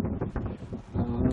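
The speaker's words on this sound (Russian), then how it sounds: "Ой, ветрище" Strong gusting wind buffets the microphone with rumbling, uneven bursts, rising and falling over a couple of seconds.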